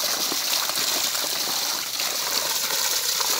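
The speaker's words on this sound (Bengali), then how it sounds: "দেখেন কিভাবে পানি উঠতেছে" Clear spring water gushes up and splashes continuously nearby in a crop field, a steady bright rushing sound with no voices.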